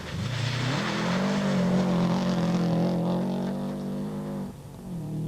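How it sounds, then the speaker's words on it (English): A Subaru all-wheel-drive rally car in the 2001 Cape Rally runs a very wet special stage, its engine droning loudly and climbing in pitch, then dropping briefly near the end as it shifts and pulls again. "The Subaru of Gemmell and Tripe are first on the road and find a very wet special stage 6 out to challenge them."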